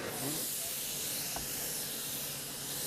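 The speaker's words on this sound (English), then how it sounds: "This is just a nice example of another application for spray foam" Spray foam insulation is applied from outside into cathedral-ceiling roof rafter spaces, producing a continuous, even hiss of spraying that runs steadily throughout, fairly quiet and unaccompanied by talk.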